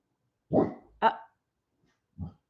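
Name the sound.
dogs barking, agitated by wind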